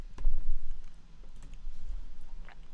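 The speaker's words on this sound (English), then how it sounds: "As I'm typing this" Someone types on a computer keyboard during an online Carcassonne match, a steady patter of quick clicks running throughout, fairly close, with a low background hum and no speech.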